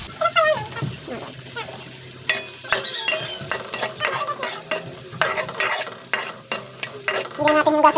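Large-cut onions sizzling in an unwashed pan for a simple sardine dish, with continuous frying hiss broken by repeated scrapes and clinks of a spoon stirring against the metal.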